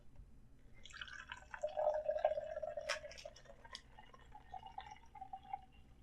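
Raspberry iced tea from a can pours and trickles steadily into a cup for several seconds, with gurgles and a few light clinks, fairly quiet with no voices.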